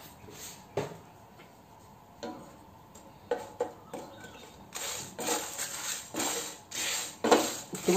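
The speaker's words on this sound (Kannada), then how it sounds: "ಇದನ್ನೆಲ್ಲ ನಾವೀಗ ಡ್ರೈ ರೋಸ್ಟ್ ಮಾಡಬೇಕು" A metal spatula scrapes and clinks against a pan as spices with fenugreek seeds are dry roasted for a simple sambar. The taps and rattles come in irregular bursts and grow busier and louder toward the end, close by with no talking.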